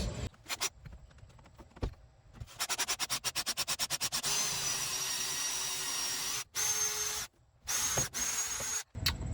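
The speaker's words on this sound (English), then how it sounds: "my goal here is to only have to drill the stem one time through" A power drill bores a half-inch hole through a metal door-handle stem in long continuous runs, with short whirring bursts and brief pauses between passes, close by.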